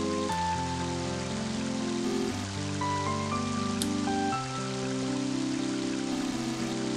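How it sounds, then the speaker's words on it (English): Steady game rain in Mother 3 hisses evenly throughout, layered under a sustained, shifting musical soundtrack with no voices. "Okay, it is raining."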